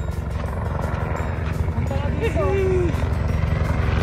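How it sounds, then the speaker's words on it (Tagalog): A helicopter flies overhead above a hiking trail near the Hollywood Sign in California, its steady rotor thrum droning throughout at moderate distance while people talk. "There's a helicopter up there."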